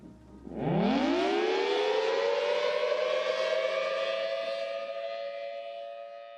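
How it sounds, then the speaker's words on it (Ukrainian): A loud tornado warning siren winds up from a low growl to a sustained, steady wail that holds for several seconds before slowly easing. "А в містах встановлені сирени торнадо"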